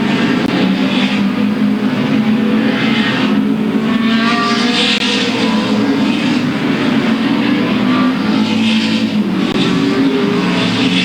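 Late model race cars roaring around Louisville Motor Speedway during the 1997 Bluegrass 300, a loud continuous engine drone with cars surging past in waves, no talk over it.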